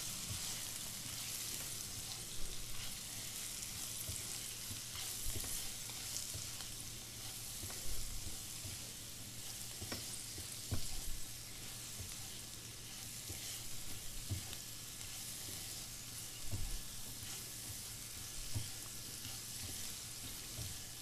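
Tinda coated in red chilli powder and coriander powder sizzles steadily in a frying pan, with a spoon scraping and stirring through it in irregular strokes, close and continuous with no voices.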